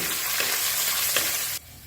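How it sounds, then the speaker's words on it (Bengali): Steady, dense sizzling of cashews and raisins frying in hot ghee, close and fairly loud, with a couple of stirring scrapes before it briefly drops quieter. "কাজু কিশমিশটাকেও ঘিয়ের সাথে মিশিয়ে নিয়ে হালকা করে ভাজা ভাজা করে নিচ্ছি"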